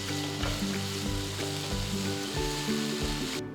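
Apple pieces cooking in a pan on high flame give a dense, continuous sizzle with low bubbling pulses throughout, close and steady, cutting off abruptly at the end.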